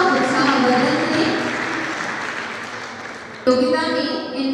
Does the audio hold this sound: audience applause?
yes